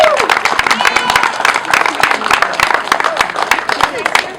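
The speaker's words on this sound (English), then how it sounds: "So if you would give them a round of applause" A crowd at a Tourette syndrome awareness walk claps in a dense, continuous burst of applause, loud and close, with scattered individual claps standing out throughout.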